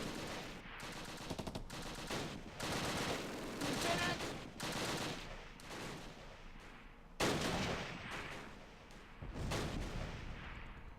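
Gunfire in the wartime strategy game Close Combat Last Stand Arnhem: repeated loud bursts of shots and booming fire that come in waves and brief pauses, with a faint voice here and there.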